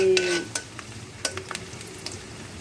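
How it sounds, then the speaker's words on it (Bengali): Onions sizzle in hot oil in a pan, with a low crackling frying bed broken by a few sharp spatula scrapes and taps, close and fairly loud, with no talking. "ভালো করে পেঁয়াজ দিয়ে গরম করে নিতে হবে তেলটা"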